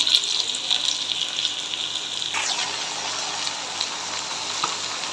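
Two kilograms of pumpkin pieces go into onions frying in a pan, giving a loud, continuous sizzle and hiss that shifts and settles partway through as the pieces hit the hot oil.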